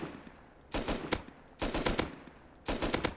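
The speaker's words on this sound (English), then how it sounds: "the weapon I have now, the semi-automatic, it's like it shoots like once, and then yeah, it's not like an automatic rifle" Semi-automatic rifle fire in the survival game Rust: three distinct bursts of loud, sharp single shots in quick succession, separated by brief pauses, with no talking.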